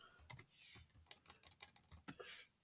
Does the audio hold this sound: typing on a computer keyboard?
yes